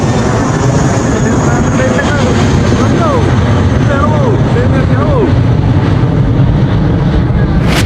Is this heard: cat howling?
no